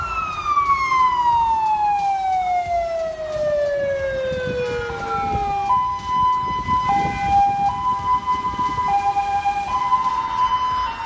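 An ambulance siren wails in traffic in China, loud and near, its tone sliding downward and then switching to a steady two-tone alternation over a rumbling road background, with no talk.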